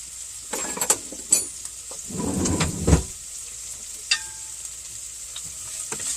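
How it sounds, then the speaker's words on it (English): Vegetables sautéing in a pan, a soft steady sizzle with a few sharp scrapes and knocks of stirring utensils against the pan, one longer clattering stir in the middle. "So our vegetables are sauteing."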